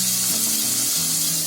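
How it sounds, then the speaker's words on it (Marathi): Peas and carrots sizzle steadily in a hot pan, a continuous close, loud frying hiss with no talk. "आपले वाटाणे गाजर चांगला शिजलाय, फ्राय झालाय मस्तपैकी"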